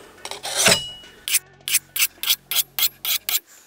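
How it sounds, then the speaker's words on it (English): A harsh rasping rub, then eight evenly spaced strokes of a knife blade filed across a diamond grit plate, steady and close. "you just file at that same angle using this as like a sanding block"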